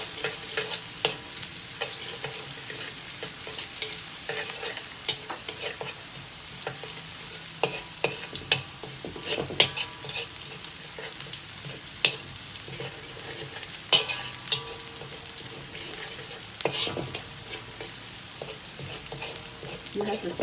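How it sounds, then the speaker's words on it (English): Shallots fry in hot oil for a Teochew fish porridge, a steady close crackling sizzle broken by frequent scraping and clinking as the pan is stirred, with no voices. "You have to stir it, if not you'll have part of it will be too brown and you'll get burned."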